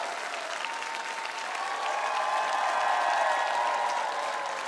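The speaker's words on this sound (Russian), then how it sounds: "Эти аплодисменты вам." Applause from an audience for the participants of a premiere, steady massed clapping that swells slightly toward the middle and stays strong to the end, with a faint tonal hum beneath and no speech.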